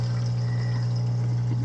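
Water running steadily through the sump of a fish-only saltwater aquarium, a constant close rushing flow with a strong low hum from the pump, with no talk.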